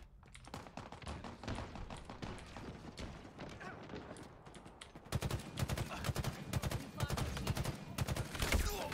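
Rapid automatic gunfire from Halo Infinite multiplayer rattles on continuously and fairly close. It grows louder and denser halfway through, with a player's voice under the shots.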